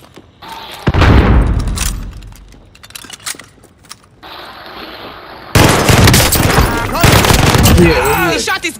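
Gunfire in Warzone, a Call of Duty battle royale game, comes as loud rapid bursts of automatic shots with explosive booms, broken by a quieter stretch in the middle, while voices talk over the action.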